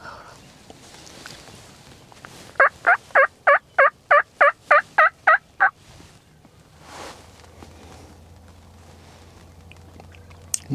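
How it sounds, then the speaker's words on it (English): Wild turkey toms gobble in one rapid, fairly close burst of about a dozen evenly spaced throaty pulses, followed by quiet woodland with a few faint rustles. "there was 2 toms back here"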